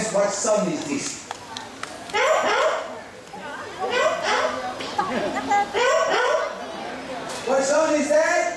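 A show bird mimics a cat's meow in a series of short, bright, wavering mewing calls with a crowd murmuring and children's voices in the background at an outdoor safari park bird show.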